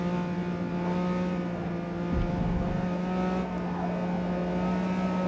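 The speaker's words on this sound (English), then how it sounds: "I put some separation between us with the acceleration of my car" A race car in Forza Motorsport 8, a GTR, accelerates hard out of a turn with a loud, steady, high-revving engine drone and a brief gear-change dip, heard alone without talk.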